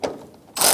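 A ratchet tightens a headlight bolt on a 2004-2009 Mazda 3, giving a quick click, a short pause, then a louder burst of rapid ratcheting clicks, close up with no talk.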